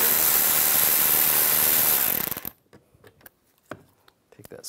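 A ratchet with a 10 millimeter socket turns out a screw while a 2011-2019 Ford Explorer driver side mirror is being removed, a dense close clicking run for about two seconds, then quiet with a few scattered taps and handling noises.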